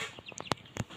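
Thirteen-day-old Sonali chicken chicks give a few short, high peeping chirps and one louder call, close by in a quiet shed.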